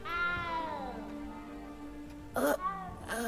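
A cat in Hogwarts Legacy meows in long, drawn-out calls that rise and fall, with a couple of sharper bursts near the end and a steady game ambience underneath.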